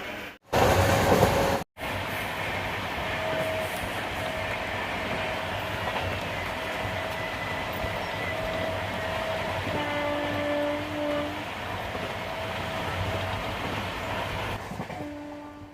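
A passenger train runs along the railway near Daund Junction on the Pune to Jeur line in India. It makes a loud, steady rumble with sustained tonal hums and an early burst, and no one speaks.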